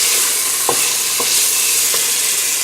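Tomato paste, green curry paste and garlic cook down in a hot pan with a constant loud sizzle, broken by three soft stirring scrapes spaced evenly apart.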